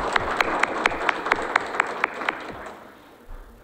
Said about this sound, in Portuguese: A ele, a nossa salva de palmas.